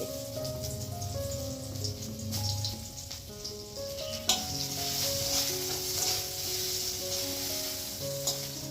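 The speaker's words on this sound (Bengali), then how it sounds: "দুপাশে দুটো কড়াই বসিয়ে দিয়েছি একটা করে ডাল ফোড়ন দেবো আর একটা করে সোয়াবিন আর আলু দিয়ে তরকারি রান্না করছি" Two woks fry at once, one holding a dal tempering and the other a soybean and potato curry, giving a continuous soft sizzle with stirring clinks and a faint tonal hum in the background.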